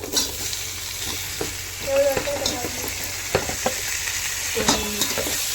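Onions frying until golden in a pan as tomato goes in, with steady sizzling broken by several sharp stirring scrapes and clinks of a spoon against the pan, close and clear, with no talk.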